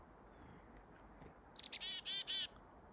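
Small birds near a campervan in Algonquin give a brief high chirp, then a quick burst of several close, bright tweets and repeated trilled calls against quiet outdoor background.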